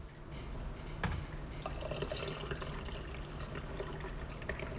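Tea is poured into a cup, a close, steady trickle of liquid lasting a few seconds, with no one speaking.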